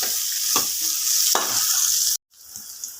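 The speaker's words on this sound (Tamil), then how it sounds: "இப்போ நல்லா இதை வதக்கிக்கலாம்." Chopped large onion and garlic sautéing in a pan for a green gram lentil curry, a steady loud sizzle with a few stirring scrapes, cutting off briefly before the frying resumes more quietly.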